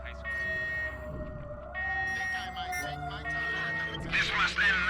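An alarm siren in the video game Watch Dogs 2 sounds as a steady, high-pitched electronic tone that holds through the scene, loud and continuous with some music and effects underneath.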